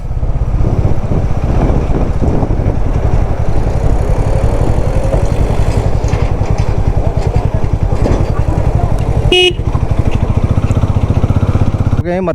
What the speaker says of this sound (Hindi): तो यहाँ पे गाड़ी भी आई है